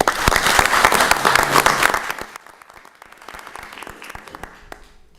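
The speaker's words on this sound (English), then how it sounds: "Let's give him one more round of applause" Applause at a town council meeting for a retiring man, a loud burst of many hands clapping for about two seconds, then thinning quickly to scattered claps and fading away.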